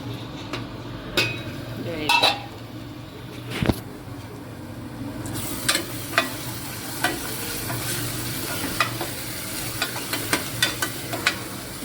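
Light scraping and clinks of a spoon in a pan, then oil starts sizzling as tomato and onion hit it for tempering, with repeated stirring taps over the frying.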